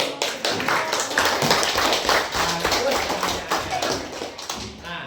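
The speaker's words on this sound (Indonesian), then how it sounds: "tepuk tangan dulu" A classroom of students applauds after a group presentation on a religious studies lesson, with dense, sustained hand clapping filling the room throughout, mixed with light chatter.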